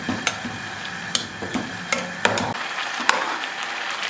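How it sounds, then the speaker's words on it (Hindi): A spoon stirs gajar halwa, grated carrots cooking down in milk in a pan, with a series of irregular scraping knocks against the pan over a soft bubbling simmer. "आपने इसमें मुसलसल चम्मच नहीं हिलाना, सिर्फ थोड़े से वक्फे के बाद इसमें चम्मच हिलाना है"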